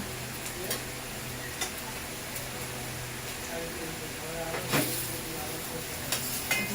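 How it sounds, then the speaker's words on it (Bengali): Bata fish frying in a pan, a steady soft sizzle with occasional sharp ticks and crackles of spattering oil, fairly quiet and close, with faint talk in the background. "মাছটা ভাজা করে নিচ্ছি"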